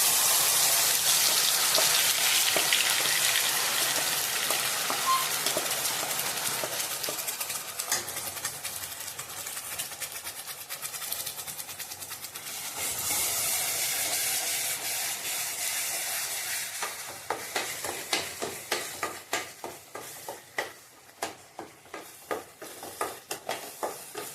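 Malvani wet coconut masala paste for prawn curry sizzles loudly as it roasts in hot oil, a continuous frying hiss broken by stirring, ending with rhythmic scraping strokes.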